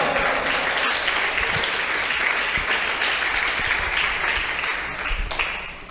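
A church congregation applauds during a worship service, a steady, dense wall of clapping that holds at full strength for several seconds and then fades slightly toward the end, with no voices standing out.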